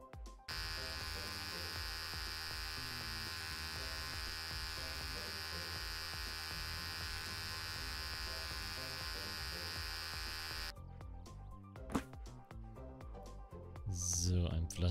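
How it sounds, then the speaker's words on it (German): An electric razor shaves an animal in an animal-shelter simulator video game, a steady, loud buzzing hum that runs without a break for about ten seconds and then cuts off, followed by a few short clicks and soft sounds. "Naja, dann rasieren wir wieder, wa?"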